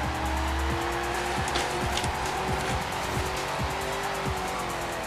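A car skids and squeals its tires under heavy handbrake in Forza Horizon 4, a steady engine roar with scraping tire noise throughout, loud and close with no talking.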